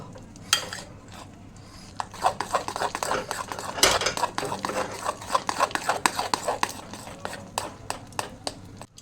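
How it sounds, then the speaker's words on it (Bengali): Lentil batter seasoned with black cumin, asafoetida, turmeric and salt is whisked briskly in a bowl, giving a steady run of close utensil scrapes and clicks with sharper taps scattered throughout. "কালো জিরে, হিং, হলুদ, লবণ এগুলো দিয়ে ভালো করে এখন ডালটা ফেটিয়ে নেব।"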